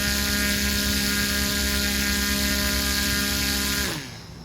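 A giant homemade drone motor spinning at full throttle gives a loud steady whining drone rich in harmonics, then drops away abruptly near the end as it spins down.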